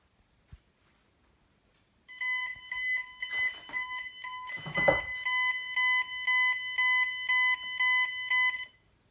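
A Bentley Symphony 2 burglar alarm on a demo board sounds off after a faint click, a loud close electronic tone pulsing in a steady fast rhythm for several seconds before cutting out, with a brief louder burst partway through.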